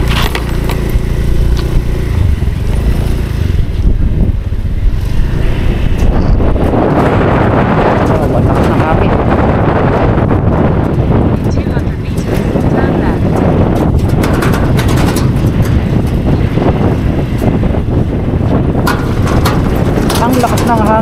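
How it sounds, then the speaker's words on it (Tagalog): Strong wind roars against the microphone while riding a Honda Beat scooter near Mapanuepe Lake in Zambales, a loud, constant buffeting rumble mixed with engine noise throughout. "Ang lakas ng hangin."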